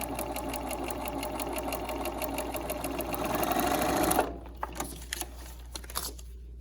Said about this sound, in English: And then we'll take it to the sewing machine. And I'm just going to sew right down this line.